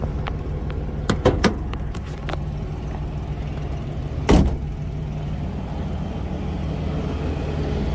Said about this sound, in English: Sounds like a V6.